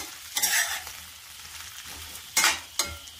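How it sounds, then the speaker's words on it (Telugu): Vegetable pieces fry in hot oil with a steady hiss, broken by loud bursts of sizzling and stirring scrapes near the end; no one speaks. "తాలింపు వేగింది కదా, ముక్కలు అయితే వేసేసాను."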